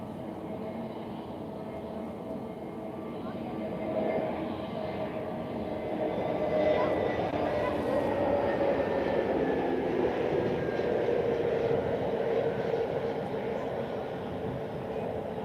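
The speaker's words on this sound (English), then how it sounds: "Yep, landing coming in" An airliner coming in to land at Lisbon Airport on a sunny afternoon, a broad distant roar that swells and holds, with a falling whine across the approach.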